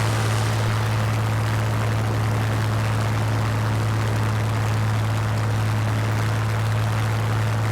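In a flight video game, a Spitfire Mk.IX's engine drones loud and steady during takeoff, a constant deep hum with a broad rushing roar layered on top and no talking.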